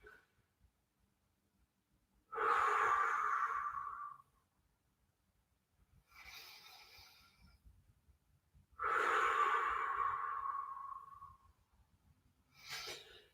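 Deep breaths during an at-home stretching exercise, two long strong exhales alternating with shorter, softer inhales, close to the microphone in a quiet room.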